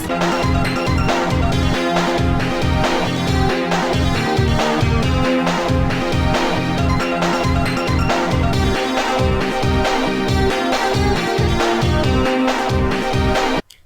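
Upbeat electronic game music plays loudly, with a driving, steady beat and a repeating melody, then cuts off abruptly at the end.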